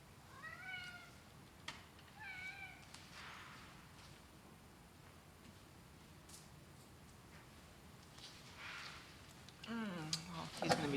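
A cat meows a few times, quietly and in short separate calls, against a low room hum. A louder burst of meowing comes at the very end.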